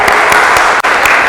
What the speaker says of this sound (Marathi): या प्रभूला आपण टाळ्या वाजून धन्यवाद देऊया.